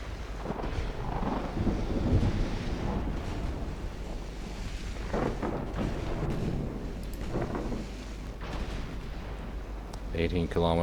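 Naval artillery firing AP shells in Ultimate Admiral Dreadnoughts, a series of heavy booming salvos rolling over a constant low battle rumble, with distant thuds spaced irregularly and a sharper crack near the end.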